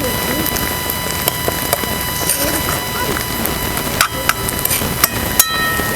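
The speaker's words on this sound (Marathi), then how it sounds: "चांगलं लालसर उसपर्यंत कांदा भाजून घ्यायचा" Onions sizzling and frying in a pan until reddish-brown, with garlic and coriander, for a spicy ridge gourd and peanut curry; a steady close crackling hiss with scattered sharp pops throughout.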